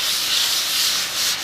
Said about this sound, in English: I've done a little sanding in the immediate area